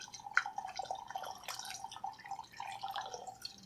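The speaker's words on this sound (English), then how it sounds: "I'm going to pour some of this into the funnel to get some of that honey out." Hot hibiscus liquid is poured into a funnel holding honey, making a soft, trickling, dripping patter that runs steadily at close range and fairly quietly for a few seconds.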